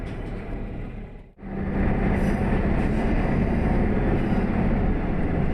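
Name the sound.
train running on rails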